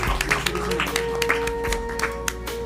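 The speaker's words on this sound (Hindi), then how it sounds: "उनके लिए भी तालियां" Audience applause at a prize distribution ceremony: scattered hand claps with a few sharper individual claps over a steady tonal hum, moderately close.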